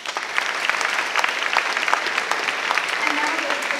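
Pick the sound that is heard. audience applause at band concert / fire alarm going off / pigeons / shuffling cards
audience applause at band concert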